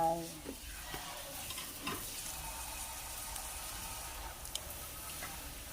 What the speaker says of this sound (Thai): ก็มะนาวนะคะ ใส่มะนาวไป